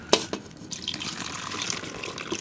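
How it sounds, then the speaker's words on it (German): Water is poured into a pot of chestnuts at a campfire, a few sharp splashes first and then a steady, close trickle. "So, dann machen wir Wasser dazu."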